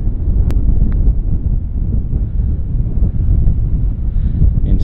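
Steady wind buffets across an exposed championship golf links, a constant low rumble and roar of gusts against the microphone with no talk, holding loud and even throughout.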